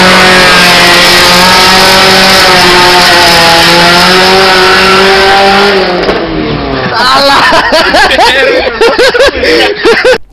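A loud modified car with a straight-through exhaust pipe revs hard, its engine note rising and sweeping through repeated throttle blips close by, with voices and laughter mixed in toward the end.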